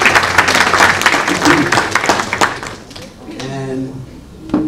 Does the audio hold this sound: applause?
yes